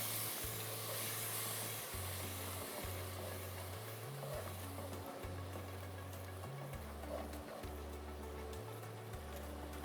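Spice masala sautéing in a pan for beef rezala, a steady broadband sizzle and hiss running throughout, with a low stepped humming tone underneath.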